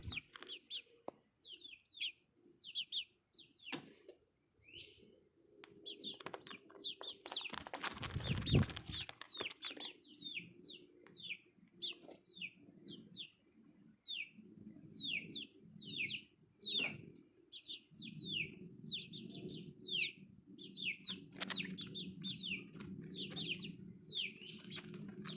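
Small chickens looking for a roost in a tractor shed cluck and peep steadily throughout, close and busy, with soft shuffling and a loud rumbling thump partway through.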